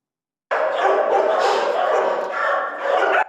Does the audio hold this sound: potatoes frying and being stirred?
no